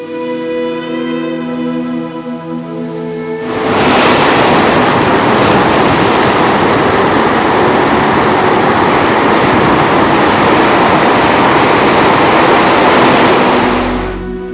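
Sea waves breaking at Talsari beach where the Subarnarekha river enters the sea, a loud continuous roar of surf that swells in after a few seconds of quieter background and stays dense and close until it fades at the end.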